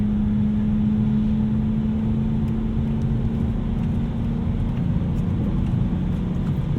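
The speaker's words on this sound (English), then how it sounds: "we've still got enough traction to get us accelerated on kind of wet, untreated roads" A 2010 BMW E92 M3 on performance snow tires accelerating on wet, untreated winter roads, heard from inside as a steady, loud engine drone with a strong low hum and road rumble, constant throughout and without talking.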